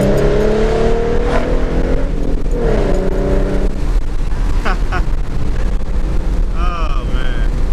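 A V6 Ford Mustang engine revs loudly while driving, rising in pitch through the gears before settling into a steady cruising drone, with a voice briefly talking over it near the end.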